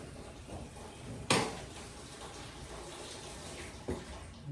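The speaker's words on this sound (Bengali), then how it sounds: "তোমার জলটা একটু বন্ধ করো" Water running from a tap in a home kitchen, a faint steady splash with a couple of sharp clunks of dishes or a drawer.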